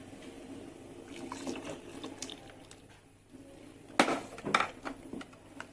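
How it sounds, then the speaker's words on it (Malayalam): Custard mixture being stirred into milk in a pan for pudding: soft scraping and watery sloshing, with a couple of sharper clinks of spoon against the pan near the end. "ഇതൊന്ന് ചെറുതായി കുറുകുന്നത് വരെ ഇളക്കി കൊടുക്കാം."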